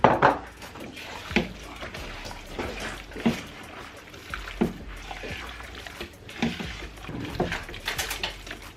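A utensil scrapes and knocks in a pan while ginger garlic paste is stirred for Mauritian-style biryani, giving irregular close clinks and wet shuffling strokes with no talk.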